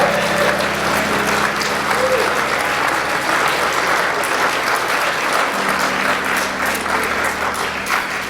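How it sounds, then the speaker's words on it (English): A church congregation applauds children at a sermon, a steady, full round of clapping that carries through the whole stretch with a faint low hum and a few murmuring voices underneath. "Come on, give them a big round of applause."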